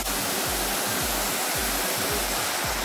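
Lugnason Falls on Siquijor pours into a swimming pool, a loud steady broadband rush of falling water filling the whole clip, with faint low rhythmic thumps underneath.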